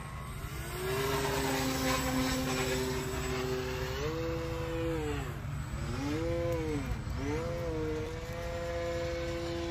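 A Flex Innovations Mamba 10 RC airplane hovers nose-up, its electric motor and propeller whining loudly and steadily, the pitch rising and falling in repeated swells as the throttle is worked to hold it up.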